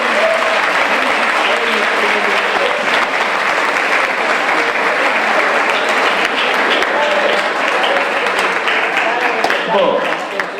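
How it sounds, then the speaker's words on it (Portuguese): Sustained applause from an audience at a university philosophy day event in Braga, steady dense clapping for about ten seconds with some voices mixed in. "uma dupla salva de palmas"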